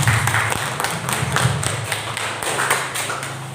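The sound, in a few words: audience clapping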